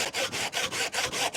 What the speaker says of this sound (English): in this episode, you'll definitely see me do lots of sawing